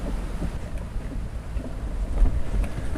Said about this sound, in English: It is quite windy today in the Eskimo Escape 2600. It's doing great, but man, is it windy out here.